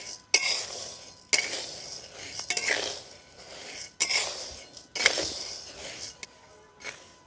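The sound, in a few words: stirring and roasting cerelac ingredients in a kadai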